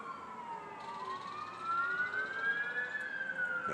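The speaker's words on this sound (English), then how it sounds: "Wow, that's a different sounding siren." An emergency vehicle siren with an unusual tone wails steadily at moderate distance, rising and falling slowly in pitch and growing slightly louder toward the end.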